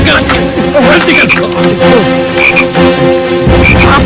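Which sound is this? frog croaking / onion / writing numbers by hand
frog croaking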